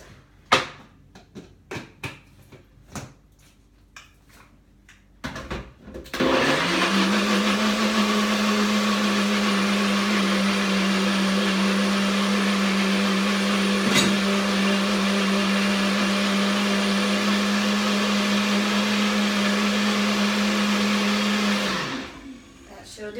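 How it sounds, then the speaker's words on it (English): A kitchen blender blends a smoothie: a few clattering knocks and handling sounds, then a loud, steady motor whir that runs for about sixteen seconds before cutting off. "And now I'm going to blend it up."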